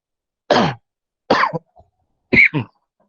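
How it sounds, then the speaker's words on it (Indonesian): Three or four sharp coughs in quick succession, close and fairly loud, with brief silences between them and no talking. "Sorry, batuk."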